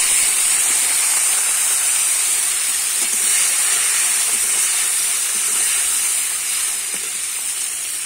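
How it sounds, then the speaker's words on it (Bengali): Washed, cut shrimp fry in hot oil left over from browning potatoes, a loud, steady sizzling hiss that holds evenly throughout with faint crackles underneath. "ওই তেলেতেই আমি ধুয়ে কাটা চিংড়ি মাছটা ভেজে নেব।"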